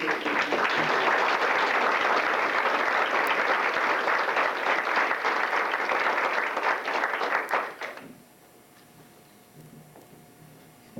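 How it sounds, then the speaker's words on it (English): Indoor audience applause for Mr. Wynn, loud and sustained for about eight seconds, then tapering off into quiet room noise. "I wanted him to have just a moment where people were appreciative and clapped"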